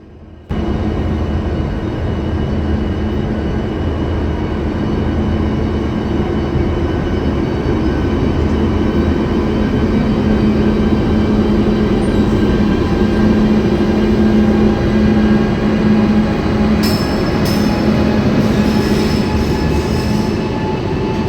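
A train pulling into a station rolls steadily with loud rumbling, clattering wheels and a sustained hum, with brief squeals near the end as it slows.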